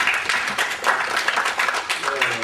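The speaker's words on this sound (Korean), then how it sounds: "박수 한번 쳐주시겠습니다" An audience at a high-speed rail forum session applauds after a talk, a dense run of hand claps with a voice speaking over it.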